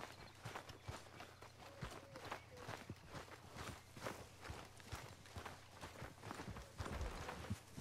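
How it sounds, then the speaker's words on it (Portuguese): A horse's hooves clip-clop along at a steady riding rhythm in Red Dead Redemption II, quiet, regular thuds with faint rain and ambient hum beneath them. "Lá vamos nós a cavalo."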